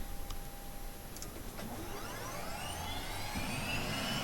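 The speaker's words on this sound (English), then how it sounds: "Engine 1 here is starting." Eurocopter EC135 helicopter engine spooling up during start in X-Plane 11: a steady whining turbine drone with rising sweeping tones that build in pitch, loud and continuous throughout with no talking.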